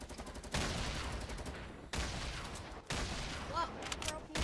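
Rapid bursts of video game gunfire crack through a 50-versus-50 shooter match, with three dense volleys of automatic fire separated by brief gaps, loud and close throughout.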